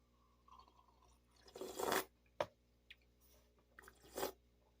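A few close, wet slurping sips of coffee, with a couple of louder airy pulls and small mouth sounds between them, otherwise quiet.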